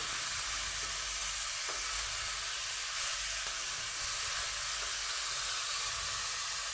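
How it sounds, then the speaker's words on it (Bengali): Paneer frying lightly in a pan with salt, chili powder and turmeric powder gives a steady, even sizzle that hisses throughout, close and continuous, with no talking. "একটু লবণ লঙ্কা গুঁড়ো হলুদ গুঁড়ো দিয়ে সামান্য ভেজে নেব খুব বেশি কড়া করে ভাজা যাবে না"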